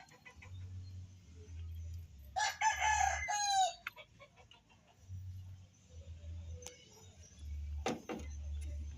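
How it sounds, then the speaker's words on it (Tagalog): A hen and other chickens in a small backyard coop give a brief burst of crowing-like calling and a few sharp clucks, spread out over low, pulsing background hum at moderate distance. "Ito naman ang ating isang inahin"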